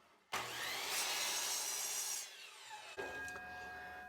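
A saw cuts through a Himalayan salt block in one loud, continuous grinding stroke that drops off near the end, then a second rasping pass begins at a slightly lower level.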